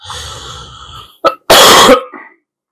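A single loud, close cough, preceded by a short throat sound and followed by a breathy exhale, after some soft background noise.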